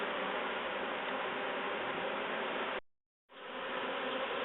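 A swarm of honey bees streams in through the entrance hole of a top bar hive, making a dense, steady, close buzzing that cuts out briefly before returning.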